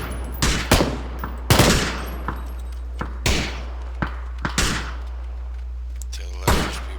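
Gunfire in the battle royale game PUBG: several sharp, separate shots and bursts ring out at irregular intervals over a steady low hum, some close and loud, others fainter and farther off.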